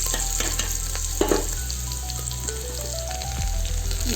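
A frying mixture with green chillies being stirred in a pan for village-style brinjal bajji, with steady loud sizzling and a few scraping, clinking spoon strokes against the metal, up close with no voices.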